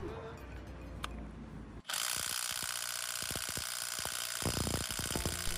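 A Bosch 18V cordless impact wrench with a 3 cm socket strains against a car's front wheel bolt: after a quiet start, a sudden loud, steady hammering whir bursts in close up and runs to the end, with no talk.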